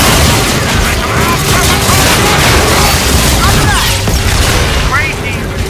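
Guard bots in Call of Duty Infinite Warfare fire in a loud, dense barrage of bursts and booms that runs continuously.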